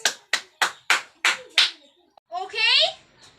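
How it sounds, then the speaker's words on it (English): Six sharp, evenly spaced handclaps ring out in a slow, deliberate rhythm from a class, followed by a voice speaking briefly. "let us give all us round of the applause."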